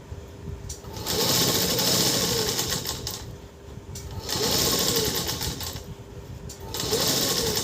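A sewing machine stitches cloth for a Ganpati feta turban, running close and loud in three rhythmic bursts of several seconds each, with short slowdowns between them and no talk.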